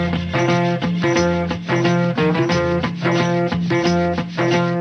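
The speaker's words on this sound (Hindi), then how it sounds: "इस गाने में ये जो रिदम है, इसे सैंड पेपर को घिसकर और बांसों को आपस में टकराकर आवाज तैयार की गई" An R. D. Burman film song plays with a rhythm made by rubbing sandpaper and clapping bamboo sticks together, a steady scratchy pulse and sharp clacks woven through the dense, loud music.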